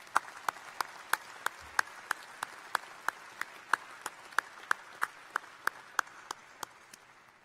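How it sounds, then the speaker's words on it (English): At a commencement ceremony, a faint, sparse round of applause for master's graduates sounds like a few individual claps, evenly spaced and distant. "Another round of applause for our master's graduates."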